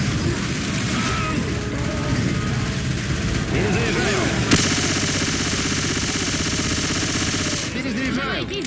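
Dense, continuous automatic gunfire in the zombie shooter Left 4 Dead 2, loud rapid bursts with booms, under game voices shouting in Russian.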